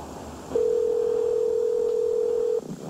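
A single steady telephone tone sounds on the line for about two seconds, clear and close, over a quiet background.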